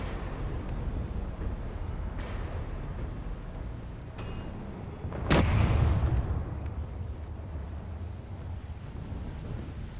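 In a video game where enemies are shooting, one sharp blast cracks out midway, followed by a short rumbling tail. Steady windy background noise runs throughout, and nobody talks.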